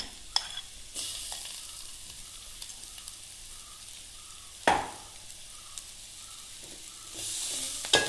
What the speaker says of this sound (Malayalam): ഇനി നമുക്കിതിലേക്ക് ഉടച്ചു വെച്ചിരിക്കുന്ന പൊട്ടറ്റോ എല്ലാം കൂടെ ചേർക്കാം എന്നിട്ട് നല്ലതുപോലെ ഒന്ന് ഇളക്കണേ